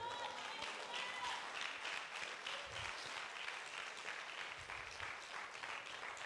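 A church congregation gives sustained, fairly distant applause, an even, continuous patter of many hands lasting several seconds without talk.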